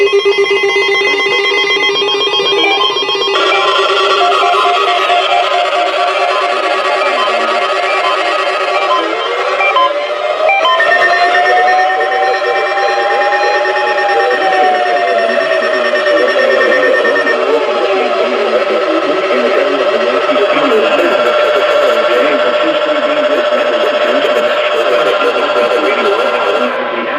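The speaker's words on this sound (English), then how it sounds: "Service weather radio warning alarm for the KHP 59 listening area of Northeast" NOAA weather radio warning alarm tone for the KHP59 listening area of Northeast Ohio: a loud, sustained electronic tone holds steadily for nearly half a minute, with layered tonal lines and a slow gliding sweep partway through.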